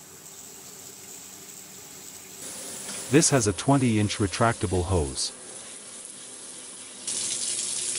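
A Delta Junction matte black pull-down kitchen faucet runs in stream spray mode, giving a steady hiss of flowing water. Someone talks over the middle of it.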